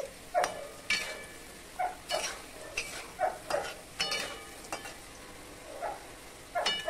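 Potatoes frying in hot oil while being stirred, a steady sizzle broken by repeated scraping strokes of a metal spatula against the pan, close and clear with no voices.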